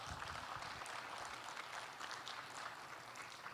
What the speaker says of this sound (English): So please give a big round of applause to our speakers